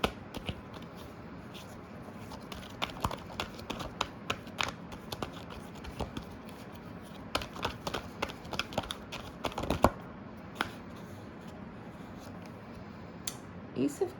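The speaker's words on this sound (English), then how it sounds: "I was just thinking as I was shuffling about the Five of Cups card" Tarot cards shuffle close up in a quiet room, a run of crisp riffling flicks and soft slaps coming in irregular bursts over low background hiss.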